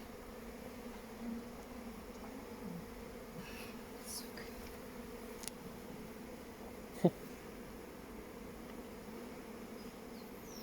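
Steady drone of honeybees buzzing around an open hive during an inspection, a continuous low hum with the occasional louder insect flying close by, and no talking.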